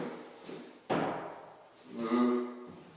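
A newly hung door, shimmed about six inches above the lock strike, swung shut into its frame during installation, giving one solid thud after a softer knock, then some quieter handling noise.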